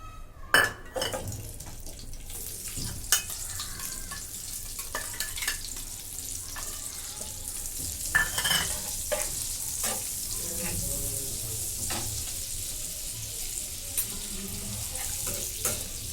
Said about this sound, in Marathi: इथं मी पॅन ठेवलेला आहे त्याच्यामध्ये बटर घेतलेलं आहे ते टाकून घेते